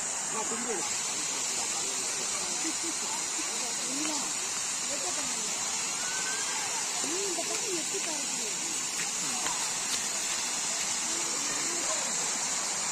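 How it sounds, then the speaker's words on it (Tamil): Loud, constant rush of Masila waterfall in the Kolli Hills, with people talking underneath the roar. "மாசிலா அருவி சூப்பராக இருக்குது"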